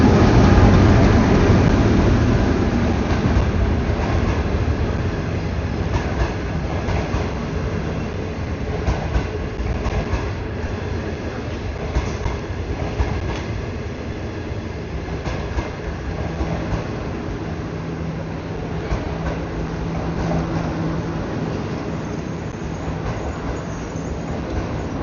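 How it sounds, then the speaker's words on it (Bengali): A Kenyan passenger train pulls into the station, a loud, steady low rumble with rhythmic wheel clatter, close and continuous, gradually easing. "তো ট্রেন চলে আসছে, আমরা এখন ট্রেনে উঠবো।"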